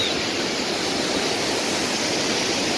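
Steady broadband rush of a waterfall along the mountain trek to Kedarnath, a constant loud roar of falling water with no break or voices.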